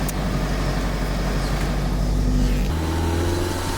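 Engine of a 30-plus-year-old project car running with a low, steady idle rumble close by, its pitch shifting slightly partway through as if the revs settle, with no talking over it.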